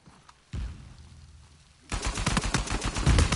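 Gunfire in the Uncharted 4 multiplayer video game: a single heavy shot with a fading tail, then a rapid burst of automatic fire with repeated loud reports.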